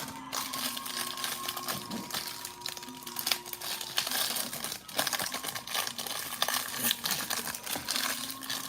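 Foil wrapper of a 1990 Fleer baseball card pack crinkling and tearing as it is pried open by hand, close and continuous with sharp crackles throughout.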